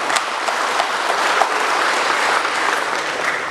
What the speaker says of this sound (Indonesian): mari kita tepuk tangan untuk kita bersama-sama sekali lagi